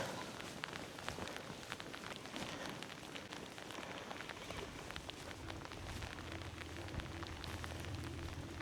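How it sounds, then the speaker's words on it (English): Steady rain patters and hisses on surfaces nearby, a dense continuous wash of drops with no talking. "It's just started raining as well"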